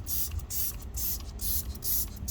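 Turtle Wax iron remover sprays onto a car wheel in five quick, close hissing squirts spaced at an even rhythm.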